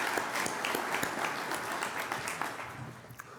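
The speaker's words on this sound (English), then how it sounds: "I'd like to give them a round of applause." Audience applause in a large civic building during a State of the City address, a steady wash of many hands clapping at fairly even volume throughout, thinning slightly at the end.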